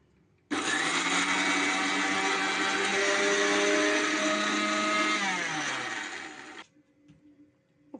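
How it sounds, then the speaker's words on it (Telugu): A mixer grinder whirs loudly for about six seconds grinding curry leaf powder with raw garlic, starting abruptly and winding down in pitch before cutting off, followed by faint clatter. "మిక్సీ పట్టుకుందామండి"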